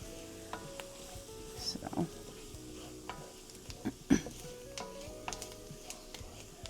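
A roux for tomato bisque cooking in a pot, with a soft, steady sizzle and occasional scraping stirs and light utensil taps, close and fairly quiet, with no talk.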